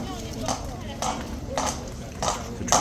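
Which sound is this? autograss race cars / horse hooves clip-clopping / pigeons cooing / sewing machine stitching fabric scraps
horse hooves clip-clopping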